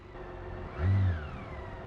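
A 2023 BMW K1600 Bagger touring motorcycle engaging reverse gear: a steady close engine idle with a faint whir swells briefly into a low, louder mechanical surge near the middle, then settles back to idle. No one speaks.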